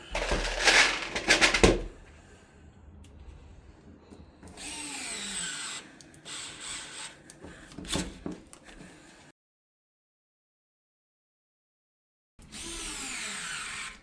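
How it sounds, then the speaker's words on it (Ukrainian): Dnipro-M cordless screwdriver driving a screw, heard as close whirring motor bursts of a few seconds each, separated by quieter handling noise and a stretch of silence. "Звісно, викрутка заходить в захист, але закручуємо."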